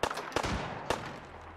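Several sharp gunshots ring out in the video game Fallout 4, a couple of bursts spaced about half a second apart, loud and close, followed by a low steady hum.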